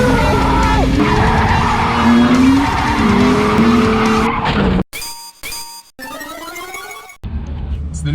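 Drift cars skid around a track at an early-season drift event, loud tire squeal and engine roar with sustained screeching, sharp cuts and shifting engine notes throughout.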